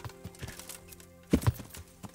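Horse hooves clopping in the medieval video game Kingdom Come: Deliverance, a few soft irregular hoof steps with a louder pair of thuds in the middle, fairly quiet.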